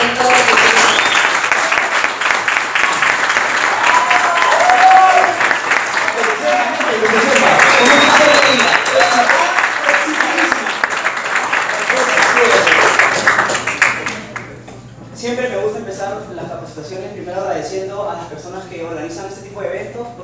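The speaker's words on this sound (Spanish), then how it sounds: "les quiero pedir que den un fuerte aplauso a José Luis" Audience applause at a talk on event involvement, a loud sustained clapping crowd for about fourteen seconds with voices mixed in, then cutting off as a single speaker continues talking alone.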